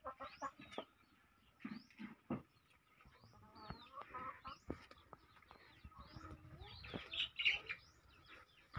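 Hens cluck and chickens call around an egg-laying nest in a rural Philippine yard, a scattered series of close, sharp clucks and chirps with small birds tweeting in the background.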